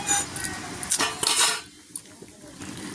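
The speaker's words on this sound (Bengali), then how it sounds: "এবারে গাজর কাটছি" A knife chops carrots on a cutting board while vegetables are prepared for a mixed vegetable dish; a quick run of sharp, close taps fills the first half, then the cutting fades to faint, sparse knocks.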